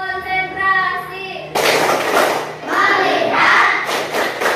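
A classroom of children in an Indonesian coding lesson joins in a rhythmic concentration clap, loud bursts of group clapping and chanting that follow a teacher's spoken cue.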